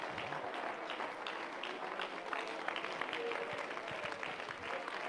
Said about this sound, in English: Let's clap our hands and thank the Lord that he's our atonement today.